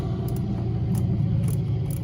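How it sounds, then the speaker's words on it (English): A loud Pontiac Trans Am passes nearby with a deep, rumbling engine drone that holds steady over two seconds. "There's a pretty Trans Am coming through."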